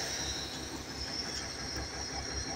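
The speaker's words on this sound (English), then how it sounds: "if we flip the switch, the pilot valve opens and starts exhausting air out the bottom there" Air exhausting from a pilot valve on an air ride suspension as the switch is flipped, a steady loud hiss of escaping air that runs without break and with no talk.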